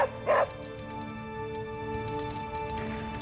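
Charlie, a dog in the game Marvel's Midnight Suns, gives a short yip-like bark followed by soft whimpering, close and brief, over a steady game soundtrack hum.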